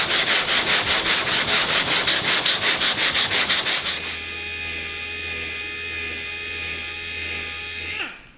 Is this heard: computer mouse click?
no